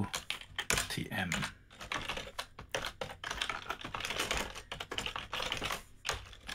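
Steady, close typing on a computer keyboard while Haskell code is entered, with quick irregular keystroke clicks running throughout.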